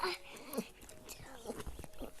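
A dog whimpers and yips in short, close whines amid faint background voices and movement.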